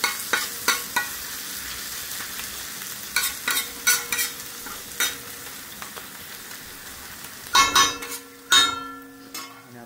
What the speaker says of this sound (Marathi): आता याच्यामध्ये टाकलेत प्रॉन्स. ते मिक्स करू याच्यात.